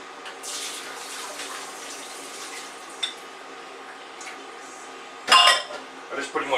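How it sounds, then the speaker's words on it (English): Boiled potatoes for corn chowder are strained in the kitchen, with a soft run of water, clinks of a pot and utensils, and a sharp clatter of metal near the end. "We'll strain our potatoes."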